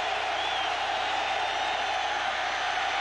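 A steady roar from a football stadium crowd at a 1997 Kansas City Chiefs at Seattle Seahawks game, a broad, constant wash of distant voices with no distinct cheers standing out.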